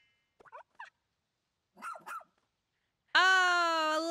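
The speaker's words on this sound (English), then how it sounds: "Dog!" A cartoonish dog in the Pikmin 4 video game gives a few short barks, then a loud sustained harmonic howl-like yelp closes the moment.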